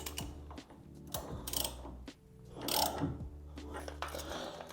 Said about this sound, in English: What we're gonna go ahead and do is just give this a little snug.